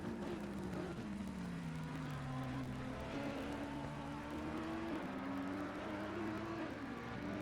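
Race cars in Assetto Corsa Competizione, including a Porsche, braking and accelerating through the Monza chicane in an endurance race, with steady layered engine drones shifting pitch as they rise and fall, continuous and moderately distant.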